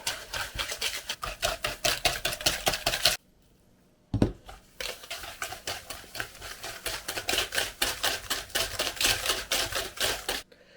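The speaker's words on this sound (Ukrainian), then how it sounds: "додам спочатку половину цукру перемішаю вінчиком" A wire whisk beating sugar into cake batter for a quick cherry pie, a steady, fast rhythm of close clinking strokes against the bowl, pausing briefly with a thud before resuming.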